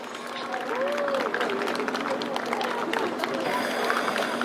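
Crowd applause and cheering at a demonstration performance at the Hyatt Hotel, a dense steady wash of clapping with voices mixed in and a sustained tone running underneath.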